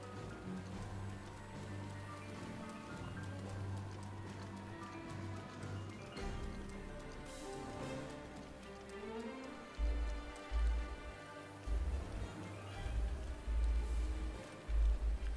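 Rain falls steadily in the video game The Legend of Zelda: Breath of the Wild, a soft constant patter mixed with game music and heavier hoof-like thumps toward the end, with no talking.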